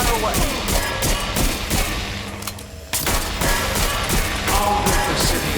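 Heavy sustained gunfire from a Watch Dogs Legion fight, dense rapid shots rattling almost continuously, one short lull in the middle, then the barrage resumes loud and close.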